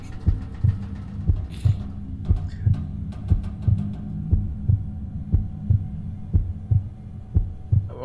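Heartbeat effect in the Roblox game Far From Land: a loud, regular double-thump pulse repeating steadily throughout, with a few brief sharp game noises early on.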